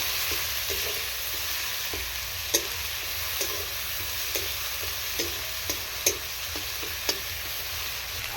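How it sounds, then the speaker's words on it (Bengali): Green chilies fry in a pan with ginger in a vegetarian pumpkin dish, a steady broadband sizzle running throughout with a few sharp clicks and pops of utensil stirring, close and moderately loud, no talk. "লঙ্কাটা ভাজা হয়ে গেছে"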